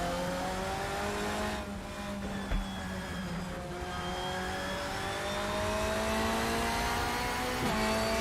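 A race car engine laps the Brno circuit in a racing game. It holds a steady mid-pitched drone that rises and falls through the gears, with a brief dip mid-lap and a faint tire squeal, and no voices.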